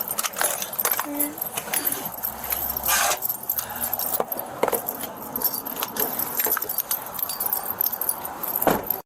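Keys jangle repeatedly in bursts during a police arrest scene beside a car, with faint voices and background noise underneath.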